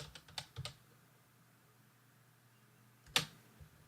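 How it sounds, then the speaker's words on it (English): Short bursts of keyboard typing done with one hand, a few quick keystrokes early on and a sharper cluster of clicks near the end, separated by quiet room tone. "it's tough to type with one hand"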